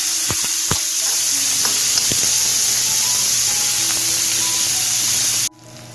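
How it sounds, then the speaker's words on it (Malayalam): Onions sauté in a hot pan with a loud, steady close sizzle, punctuated by a few sharp clicks of stirring, then drop abruptly to a quieter hiss near the end. "സവാള ഒന്ന് നന്നായിട്ട് വഴറ്റിയെടുക്കാം"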